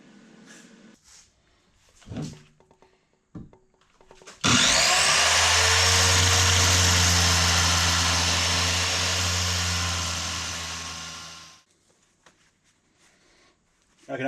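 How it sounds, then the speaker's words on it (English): A big bandsaw cuts through metal angle. A loud, steady grinding whine with a low hum beneath it holds for about seven seconds, then tapers off, with workshop clatter before and after. "And then finish the cut with the big bandsaw."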